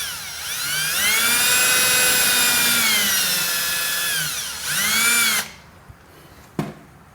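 Power drill driving T25 screws during a custom pressure washing equipment install, a close, loud motor whine that rises and holds for several seconds, stops, then whirs again briefly, followed by a sharp knock.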